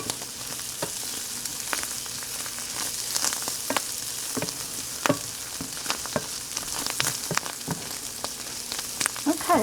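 Bacon frying in a pan, a steady crackling sizzle with scattered sharp pops and spits throughout, close and continuous with no talking.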